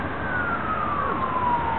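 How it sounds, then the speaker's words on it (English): A distant emergency siren wails through a residential neighborhood, its gliding tone sliding slowly downward over steady, muffled background noise. "there's a siren in the distance"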